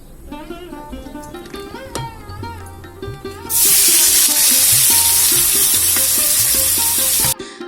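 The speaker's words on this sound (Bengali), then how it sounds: "পনিরটা দেখো ভাজা বসিয়ে দিয়েছি" Paneer hits hot oil in a pan and a loud, steady sizzle takes over, after quieter background music, then cuts off abruptly near the end.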